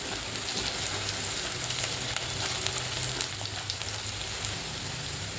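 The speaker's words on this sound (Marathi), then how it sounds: "गोल्डन ब्राऊन होईपर्यंत परतते." Garlic frying in a pan until golden brown, a steady close sizzle like light rain that runs unbroken throughout with no talking.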